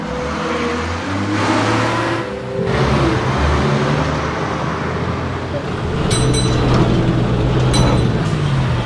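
A bus engine revs loudly under steady roadway traffic noise, its low drone swelling and surging throughout with a few faint tonal whines near the end.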